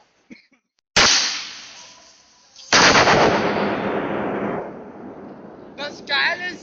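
New Year's Eve fireworks explode at close range in loud crackling bursts, one abrupt blast decaying over a couple of seconds before a second dense barrage rolls on, with faint whistles near the end.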